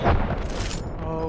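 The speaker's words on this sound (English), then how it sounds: "I threw a nade there." Grenade blast in a competitive shooter game, a loud low boom at the start that rolls off into lingering rumble and game noise.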